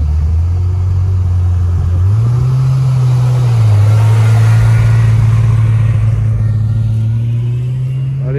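A Ferrari sports car engine revs loud and near, its low note climbing and holding in a sustained roar, then easing slightly as it runs on.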